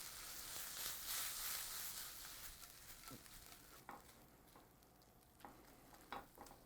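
Buffalo sauce with butter sizzles steadily in a pan for a buffalo chicken sandwich, loud at first and then easing into a softer hiss broken by a few sharp stirring clicks.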